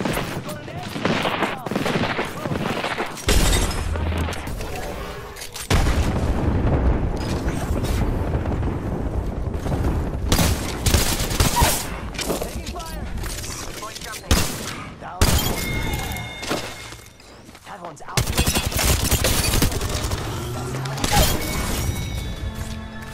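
Video-game gunfire rattles loud and close in dense overlapping bursts and rapid volleys, with crashes and mechanical clatter mixed in.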